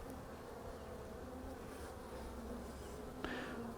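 Honey bees in a hive hum in a dense, steady drone, close and continuous, with one brief sharper buzz near the end and no talking.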